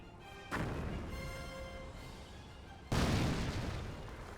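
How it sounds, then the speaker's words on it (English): Two heavy landmine blasts in a Company of Heroes battle, one near half a second and a louder one near three seconds, each a deep broadband boom with a lingering rumbling tail over a steady combat background. "Landmine detonated there."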